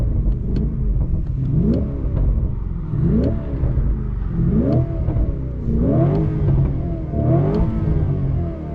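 A 2025 Lamborghini Urus SE with a V8 hybrid engine, parked in Corsa mode, revs repeatedly in a loud close series of rising blips, each climbing sharply then dropping back to idle.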